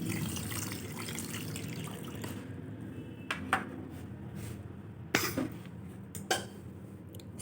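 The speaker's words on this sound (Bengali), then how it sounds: "গোবিন্দভোগ চালটাকে আমি ভিজিয়ে নিচ্ছি।" Gobindobhog rice soaks in water, with faint splashes and swishes of water in a bowl, a few sharper clinks and sloshes, and a low background hum.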